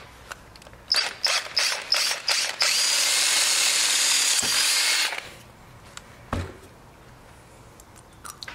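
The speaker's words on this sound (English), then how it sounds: "I'll drill this out to" An electric drill with a 9/32 bit bores a hole for a nut insert, starting with several short trigger bursts, then a steady whine for about two seconds before stopping, followed by scattered clicks and handling noises nearby.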